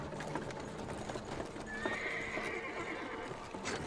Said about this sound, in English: Got me some horses.